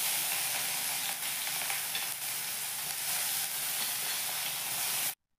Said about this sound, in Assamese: প্ৰথমতে আমি পিঁয়াজখিনি ফ্ৰাই কৰিম